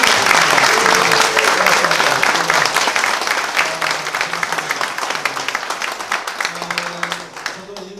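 An audience at a policy forum on Korean animation breaks into sustained, dense applause, loud at first and gradually thinning, with faint voices beneath.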